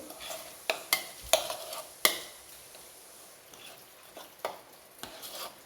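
Liquid is stirred into puttu flour in a bowl for a soft breakfast puttu, giving a series of sharp scraping and tapping strokes with quieter mixing between them, heard close up with no talking.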